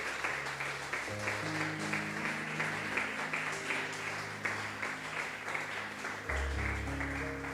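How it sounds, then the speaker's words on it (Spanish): Congregation applause during a church service, a steady wash of clapping lasting throughout with sustained organ or keyboard tones underneath, fairly loud and continuous. "Le damos un fuerte aplauso al Señor"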